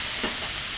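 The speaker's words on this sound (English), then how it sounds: "Okay, you can hear that sizzling, I hope." Onion and ground turkey frying in a pan with olive oil, a brief close steady sizzle with a faint stir, continuous hiss with no talking.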